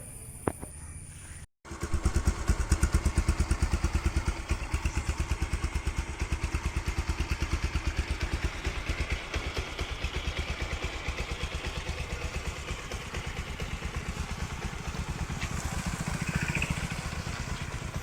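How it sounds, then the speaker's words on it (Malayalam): A Bajaj Pulsar 125 motorcycle engine idles steadily and loudly with a rapid, even putter, after a brief start-up sputter and a short gap near the beginning. "ഇനി നമുക്ക് വണ്ടിയുടെ എൻജിൻ നോയ്സ് ഒന്ന് കേട്ടിട്ട് വരാം"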